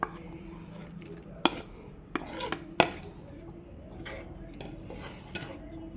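Fried okra pieces are tipped into a curd curry and stirred, with a few sharp spoon knocks against the pot amid soft scraping and faint background noise.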